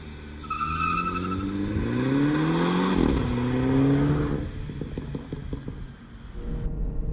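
A stock F56 Mini Cooper S in second gear has its throttle blipped, revs sweeping up and falling back with a popping exhaust burble, close and loud, engine note steady throughout.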